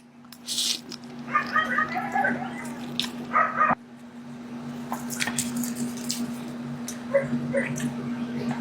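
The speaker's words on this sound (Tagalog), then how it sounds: "pasensya na sa mga aso guys na naririnig niyo yung mga asong ingay" Several short dog barks and yelps pop out against a steady electrical hum and faint background chatter, coming in scattered bursts at moderate distance.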